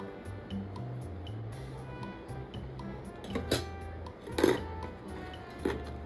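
Dishes clink and tap in a home kitchen as a plate is picked up to serve a meal of chicken shallow fry, with soft scattered knocks and a few brighter ceramic clinks against a steady low hum.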